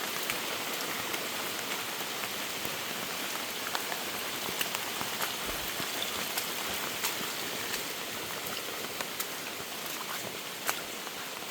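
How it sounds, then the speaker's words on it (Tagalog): Steady rain falls on a plantation beside a water-rich creek, a dense, even hiss of drops with scattered sharper patters, moderately faint and continuous with no voices. "Kasi nga umuulan."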